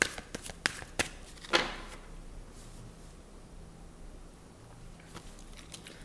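Tarot cards are shuffled and handled up close, with a handful of sharp crisp clicks and snaps early on before the sound fades into quiet room tone.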